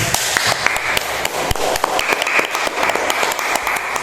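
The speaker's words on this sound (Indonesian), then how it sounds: "Jadi kepada kelompok C kita berikan aplaus." A classroom claps for a presenting student group, a short burst of scattered, uneven hand claps from a small crowd, fairly close, fading after a few seconds.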